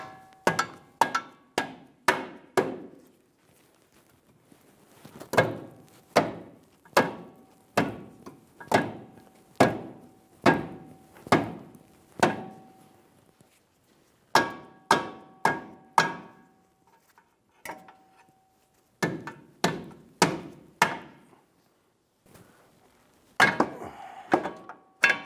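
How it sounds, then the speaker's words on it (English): Sharp soft-face hammer taps on a 2007-2011 Toyota Camry front lower control arm being set into its bracket land in quick bursts of three to five, separated by brief pauses, close and loud with metallic ring. "I used a soft face hammer to help set the control arm into the bracket."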